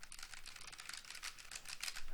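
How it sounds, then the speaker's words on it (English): Rapid keystrokes on a computer keyboard, recorded through an Epos H6 Pro headset microphone during a mic test, form a steady, close stream of clacks with no talking. "We're going to type on the keyboard so you guys can hear how well it noise cancels."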